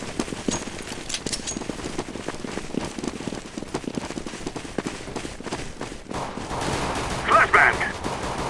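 Rapid crackling bursts of simulated gunfire from a decoy grenade in the video game CS:GO, dense and continuous throughout, with a brief louder game effect near the end.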